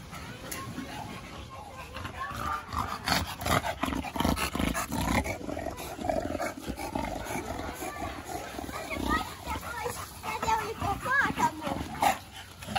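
Several muscular bull-breed dogs in a kennel bark and growl in a continuous, rough, fairly close chorus, with people talking throughout.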